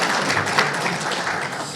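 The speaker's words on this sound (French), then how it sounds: "il faut l'applaudir" A conference audience gives a short burst of applause at a debate on shale, dense overlapping clapping that stays steady and fairly loud for under two seconds.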